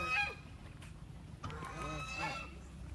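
Ducks or geese at a highland campsite, several short nasal honks and calls close by over faint background noise, with no talking.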